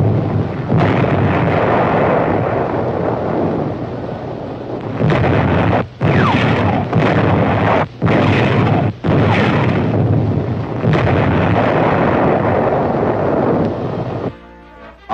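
Construction blasting by naval engineers building roads in the South Pacific tropics gives loud, sustained rumbling booms with several sharp bursts and brief gaps, heard alone without talk.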